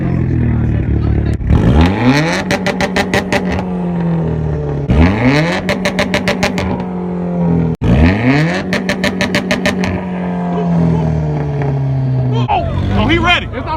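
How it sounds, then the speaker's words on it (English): A car at a two-step battle meet revs hard against its launch limiter in four repeated cycles, each a rising roar that breaks into a rapid popping stutter before easing off, loud and close, with voices around it. "You're gonna start revving it"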